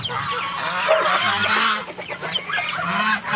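Geese honking repeatedly, loud and close, a noisy overlapping chorus of harsh calls.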